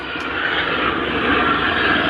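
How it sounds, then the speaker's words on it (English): A helicopter flying overhead gives a steady, loud, broad engine and rotor drone that fills the whole stretch without a break, with no talk over it. "helicopter flying over."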